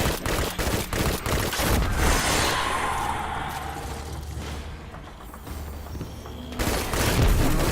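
Heavy weapon fire in Destiny 2, a volley of loud close shots at the start, a quieter stretch with rumbling echoes, then another burst of firing at the end.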